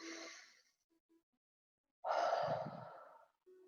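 Slow, deep breaths in a guided mindfulness breathing exercise: one long exhale fades out, a pause follows, then a strong breath flows out again, close and clear, with no talk.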